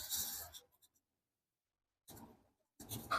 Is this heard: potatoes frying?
no